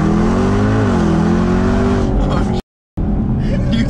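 A sports car engine revs hard and close, its pitch swinging up and down in a loud, buzzy drone before briefly cutting out, with people talking over it.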